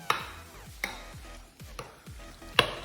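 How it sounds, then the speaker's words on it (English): Egg whites cook in a pan under constant stirring: a spoon scrapes the pan in regular strokes about once a second, each with a sharp leading click, over a soft sizzle. "I keep stirring them constantly when I'm cooking them in the pan"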